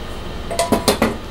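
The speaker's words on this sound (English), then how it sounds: "I'm just gonna continue to mix everything together" A spoon scrapes and knocks four times against a bowl while cookie dough with chopped salted peanuts, coconut and bittersweet chocolate chips is stirred, each clack close and crisp over a quiet kitchen background.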